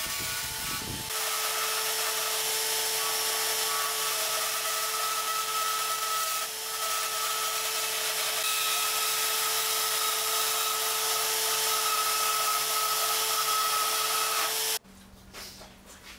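A power tool cuts the rough shape of a side web profile for a new bandsaw build, a loud continuous whirring cut that runs steadily for about fourteen seconds before stopping abruptly.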